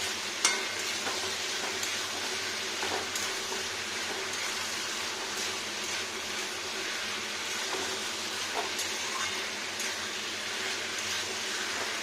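Steady, close sizzling and stirring as a sweetened bottle gourd and poppy seed mixture is quickly mixed in a hot pan with oil, a constant frying hiss with small scraping clicks throughout.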